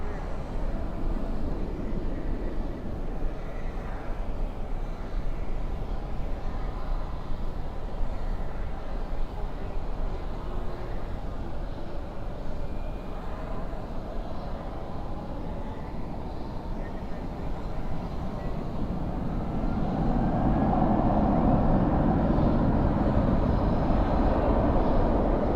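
A jet airliner taking off at night at Dallas/Fort Worth airport gives a steady, broad engine roar that swells louder toward the end, with radio voices heard over it.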